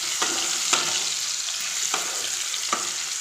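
Potatoes and soybeans fry in hot oil with a loud, continuous hiss, broken by about four sharp scrapes of stirring spaced through the sizzle.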